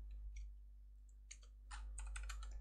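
Someone types HTML list items on a computer keyboard: a faint pause followed by a quick run of soft, close key clicks over a low steady hum, with no speech.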